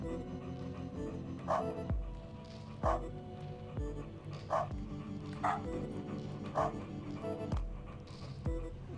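A dog barks repeatedly in the video game Humanity, short regular woofs roughly every second over a steady droning game soundtrack.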